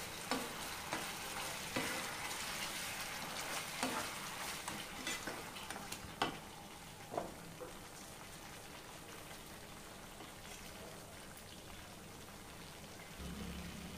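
Tempering of chana dal, urad dal, mustard seeds, green chilies, asafoetida and curry leaves crackling in hot oil: a steady rain-like sizzle with scattered sharp pops early on, fading to a softer hiss.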